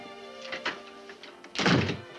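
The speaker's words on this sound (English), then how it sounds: "why don't you shut the door?" A door shut in a 1950s Western town interior, a single solid thunk near the end after faint earlier knocks, with quiet background and no talk.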